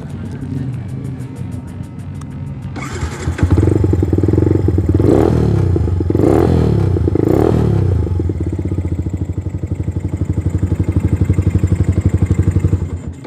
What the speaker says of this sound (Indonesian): begitulah suara dari project Yamaha Vixion bobber tracker ini cuy